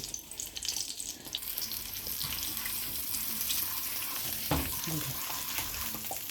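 Spices fry in a little ghee for a Puran Dhaka shahi haleem, a soft continuous sizzle with scattered crackles and light clatter from stirring, heard alone at moderate volume.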